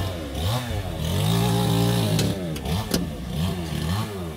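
An old Soviet-era Russian tractor engine runs close by, its loud, steady rumble rising and falling in pitch as it revs, with a few sharp knocks near the end.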